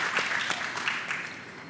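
Brief burst of audience applause at a WestEdge Wednesday talk event about rebuilding Los Angeles, a dense even patter of many hands clapping for under two seconds.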